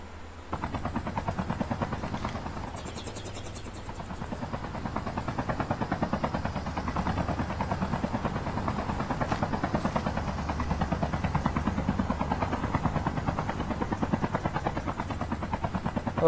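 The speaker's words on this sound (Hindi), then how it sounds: "तो चलाओ हेलीकॉप्टर" Helicopter in the video game Call of Duty Mobile, a steady rhythmic rotor thump with engine drone, moderately loud and continuous throughout without talk.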